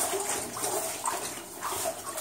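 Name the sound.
running water inside an abandoned mine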